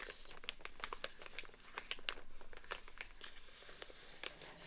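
Paper packaging crinkling and tearing as paper office supplies are unwrapped, a close, soft run of irregular crackles and rustles with no talking.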